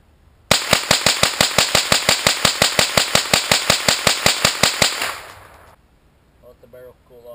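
A Smith & Wesson M&P 15-22 rifle firing a fast, even string of about thirty loud, sharp shots close by, ending abruptly, followed by a quiet tail with faint voices.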